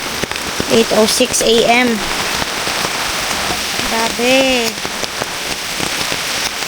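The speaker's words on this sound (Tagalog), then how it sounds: "Lakas ng ulan dito, oh." Heavy rain falls steadily at a campsite, a dense hiss throughout, with people talking over it in Filipino.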